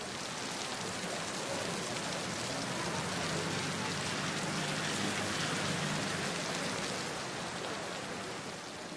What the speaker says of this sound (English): nothing can protect you from this kind of downpour